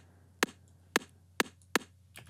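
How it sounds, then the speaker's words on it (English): A very short click sample meant for sidechain compression repeats four times at an even pulse, each a sharp faint tick over a low hum, with a softer trailing click at the end. "So it's just like a click, and it's really, really short."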